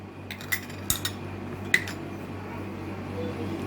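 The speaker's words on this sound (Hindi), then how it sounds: "Give it a fine mix so that the salt get mixed properly" A spoon stirs salt into a paneer and corn filling, making a few sharp clinks and scrapes against the dish up close, with a quiet hum between them.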